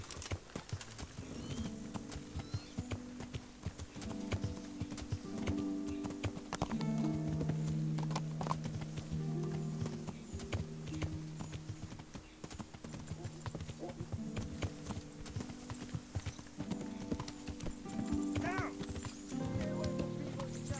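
Horse hooves in the medieval game Kingdom Come Deliverance, a steady rhythmic clip-clop of a ridden horse running through the whole stretch under background music tones, with a brief whinny and someone talking at times.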